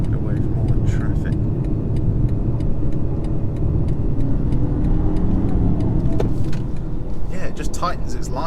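A 2022 BMW 118i hums along on the road, its engine a steady low drone with tyre and cabin noise, with a voice speaking over it and a few light ticks.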